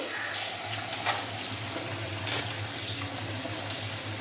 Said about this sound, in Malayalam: പിന്നെ ഞാനൊരു അല്പം വെള്ളം ഇതിലേക്ക് ഒഴിച്ചു കൊടുക്കുന്നുണ്ട്